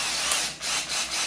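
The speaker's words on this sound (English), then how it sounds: "Now we're going to put in our big drill." A big power drill grinds through the plastic of a KitchenAid food processor, a close, loud, steady whir with brief dips in pitch.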